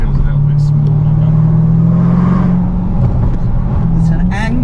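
A Range Rover Sport SVR (L494) fitted with a Quicksilver stainless-steel exhaust holds a deep, steady engine drone, slightly rising and falling, while people talk over it.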